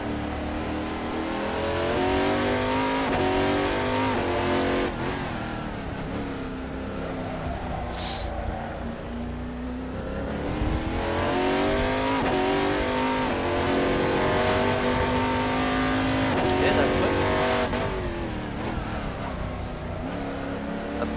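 An Oreca FLM09 prototype race car at Interlagos in the video game Assetto Corsa revs loudly. The engine downshifts repeatedly under braking, with the pitch dropping in steps, then climbs again as the car accelerates, all close and continuous.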